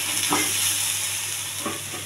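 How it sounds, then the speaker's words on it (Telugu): Okra (bendakaya) frying in a little oil in a pan, a steady close sizzle with soft stirring scrapes and no voices. "దీన్ని బాగా ఫ్రై చేయాలండి. నూనెలో లైట్గా వేసాను"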